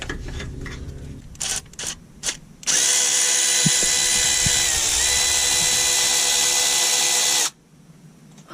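Power tool, likely a ratchet, spinning out gearbox bolts on a DAF LF truck during a clutch replacement: a few short bursts, then one loud sustained whirring run of about five seconds before it stops, close up with no talking.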